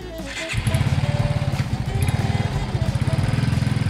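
A 125cc motorcycle engine runs steadily up close, its fast, even put-put pulse staying loud from start to finish after a brief quieter opening.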